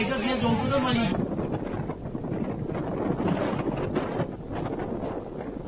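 Strong unseasonal wind at an outdoor wedding in Gujarat buffets the microphone with a loud, rough roar, steady across the whole stretch, with no voices heard.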